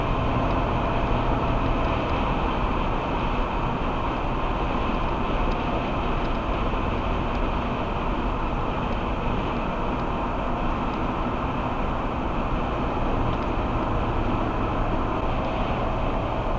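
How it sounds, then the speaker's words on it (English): Steady, loud roar of wind and road noise inside a Ford SUV cruising at about 100 to 120 km/h on the highway, a constant broadband rush with no talking. "how loud the wind noise is when I'm traveling about 100 to 120 kilometers an hour"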